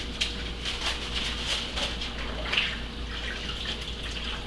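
Tamale corn husks are pushed into a bin of hot water, making a continuous close watery swish and slosh with light splashes and drips, and no talking.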